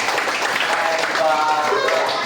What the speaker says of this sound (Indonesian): Tepuk tangan dong buat Aslam.